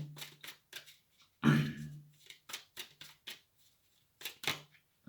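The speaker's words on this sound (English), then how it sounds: "flipped out as I was shuffling" Tarot cards are shuffled by hand in a quiet room, giving a series of short, soft riffling and flicking bursts with gaps between them and one louder bump partway through.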